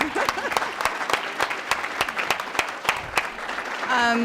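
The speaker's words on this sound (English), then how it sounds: "Can we give her a round of applause?" Audience applause at a philanthropy event, a steady patter of clapping with sharp individual claps standing out over a brief tail near the end.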